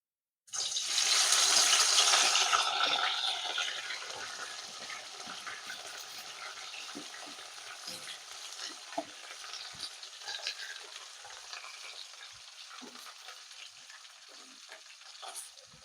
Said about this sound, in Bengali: নেড়ে চেড়ে ভেন্ডিগুলো একটুখানি ভেজে নেব